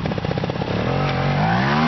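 A trial motorcycle engine revs hard as the bike climbs a slope, starting with choppy, uneven bursts and then smoothing into a sustained, rising whine that stays loud and close.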